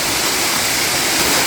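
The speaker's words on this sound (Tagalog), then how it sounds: "Welcome to Kawasan Falls, Balilihan." Kawasan Falls in Balilihan, Bohol, pours as a steady, loud, broadband roar of falling water, constant and close throughout with no voices.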